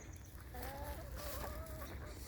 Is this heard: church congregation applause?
no